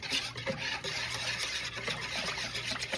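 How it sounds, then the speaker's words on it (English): A mixture is whisked in a bowl with a steady, close scraping swish and faint rhythmic strokes running throughout, with no talk over it. "Hashtag whisking"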